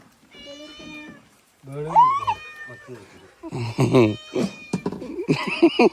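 A domestic cat meows repeatedly in drawn-out, rising and falling cries, loud and close, with short gaps between calls and people talking at the same time.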